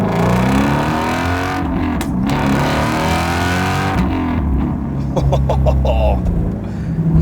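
A loud 2016 Shelby GT350R Mustang engine revs hard from first to second gear, climbing in pitch, dropping briefly at the gear change, then pulling again, close and continuous with no voices.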